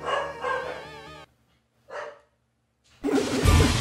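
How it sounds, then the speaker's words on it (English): A dog barks in the retro action game Castlevania: Rondo of Blood. Short, clipped yelps sound in bursts between brief silences, then a louder burst of game sound follows. "Already got our first dog interaction"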